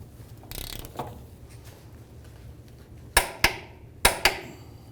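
A torque wrench tightens the rear control arm bolts to 83 foot-pounds on a 2011-2017 Honda Odyssey with the suspension under load. Faint ratcheting gives way to two pairs of sharp, close metallic clicks.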